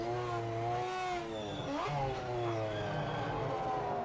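A race car engine in the video game Project Motor Racing revs and shifts through gears, pitch climbing and dropping in steady sweeps at moderate volume with no talk over it.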